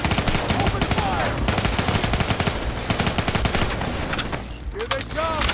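Dense, rapid gunfire in Call of Duty Black Ops 3 in old subway tunnels, a loud continuous fusillade of overlapping automatic bursts filling the whole stretch, with shouting voices mixed in.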